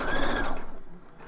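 Sewing machine running fast through fabric while stitching a seam for a pattern sew-along, then backstitching at the edge; a steady mechanical whir with rapid needle rhythm, loud at first and slowing toward the end.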